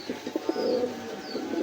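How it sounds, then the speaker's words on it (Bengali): A male Indian Bombay pigeon, one of a caged breeding pair, coos in a short soft run of low throaty pulses up close, with no voices. "বন্ধুরা এখানে একজোড়া ইন্ডিয়ান মুম্বাই কবুতর আছে। দেখেন খুবই তেজি একটা নটটা কিন্তু খুবই তেজি, সারাক্ষণ ডাকে"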